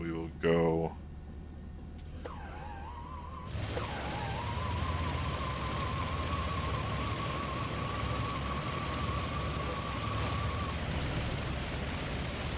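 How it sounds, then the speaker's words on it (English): Big radial aircraft engines in a Microsoft Flight Simulator 2020 plane rumble into a steady drone after a brief whine and start-up, holding a constant tone as they run, with a voice briefly heard at the very beginning. "Let me know if the engine sounds are too loud in this plane, because these are these big radial engines"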